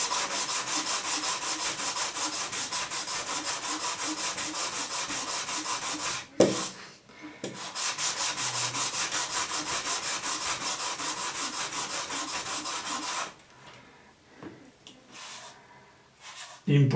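Sandpaper is rubbed by hand over a surface in steady, fast back-and-forth strokes, close and continuous, breaking off briefly partway through and then resuming before the scraping fades to quiet handling noises.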